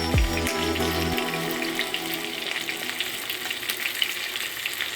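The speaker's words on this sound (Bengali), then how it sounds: "তো লো টু মিডিয়াম ফ্লেমে রাখে এটাকে ভালোভাবে ভেজে নিতে হবে।" Katla fish pieces fry in a pan of oil over a low-medium flame, giving a steady close sizzle and crackle after a brief low rumble at the start, with no voices.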